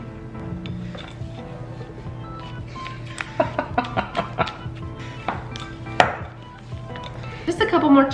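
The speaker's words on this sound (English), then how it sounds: "mix it in with the spatula" A spatula working chunky chocolate chips into thick cookie batter in a bowl, a run of close, irregular taps and scrapes that grows busier toward the end.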